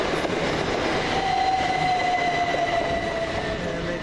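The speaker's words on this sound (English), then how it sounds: "Goes 377411 working the 11:57 Southern Railway service from, well, Seaford" A Southern Railway Class 377 electric multiple unit runs past London Road station in Brighton, a steady near rumble of wheels and motors with a long tonal whine held through the middle, loud and continuous without speech.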